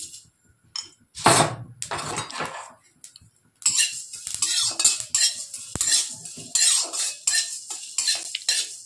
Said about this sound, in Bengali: দেখবেন যেন পুড়ে না যায়, খুব হালকা করে ভেজে নেব।